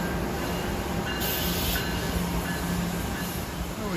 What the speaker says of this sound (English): My train back to Newark is coming in